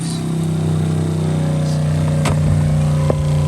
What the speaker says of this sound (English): So as you can hear, the pump going off at the minute.